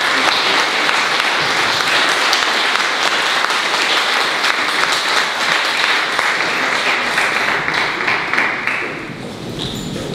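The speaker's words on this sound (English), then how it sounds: "Let's give the senator a round of applause" Audience applause for Virginia Senator Mark Warner at a question-and-answer event, a dense, steady ovation that fills the room throughout and eases off slightly at the very end.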